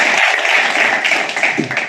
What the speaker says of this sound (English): let's give an applause for Pak Ardita